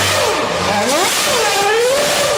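A toy or model F1 race car engine revs loudly nearby, its pitch sweeping up and down in several quick rising and falling whines over a steady buzz.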